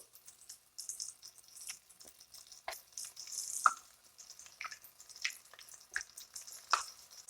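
Onion rings fry in hot oil at about 360 degrees with a soft, steady sizzle broken by scattered sharp pops and crackles, close up and with no voices.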